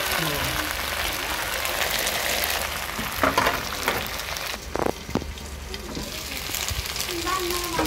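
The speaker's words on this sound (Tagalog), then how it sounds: "Kaya pritoin natin siya sa sarili niya mantika." Chicken adobo pieces sizzle and crackle steadily, frying in their own rendered fat, with a few clinks and scrapes of stirring over the constant frying hiss.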